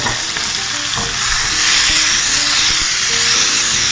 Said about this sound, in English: have the stir frying experience here, and you can see the steam coming out